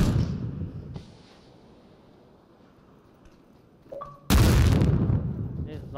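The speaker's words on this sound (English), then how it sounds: "my grenade's gonna explode at the bottom" A grenade blast in the battle-royale game PUBG, one loud broadband boom bursting in near the end after a quieter stretch with a brief earlier thud, with a player talking over the game sounds.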